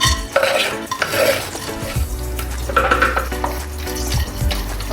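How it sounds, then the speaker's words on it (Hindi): Chopped dry fruits roast in desi ghee in a pan as a spoon stirs and scrapes against the metal, giving loud, close clatters and knocks over a light sizzle. "ड्राई फ्रूट्स को अच्छे से रोस्ट कर लेंगे।"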